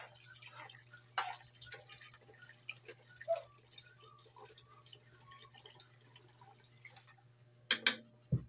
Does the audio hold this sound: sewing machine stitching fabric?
no